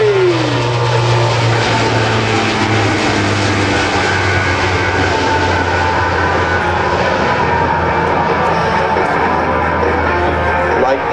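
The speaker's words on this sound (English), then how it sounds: "Here they come in a beautiful photo pass from the right, the C-130J Super Hercules." Lockheed C-130J Super Hercules transport aircraft in a low photo pass at an air show open house. A loud, sustained turboprop roar with a droning tone holds steady throughout, and faint crowd voices sit beneath it.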